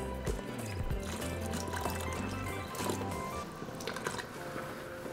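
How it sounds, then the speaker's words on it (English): Water is poured over meat inside an Instant Pot, giving a close, continuous gurgling splash with wet squishing and dripping throughout. "now we're just going to add a little bit more water, just until it covers the meat."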